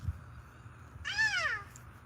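A single drawn-out cat meow, rising then falling, clear and fairly close over quiet low background rumble.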